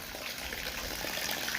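Rainwater runs off a kitchen's RCC roof in a continuous, dense gushing rush, steady and fairly faint, with no voices.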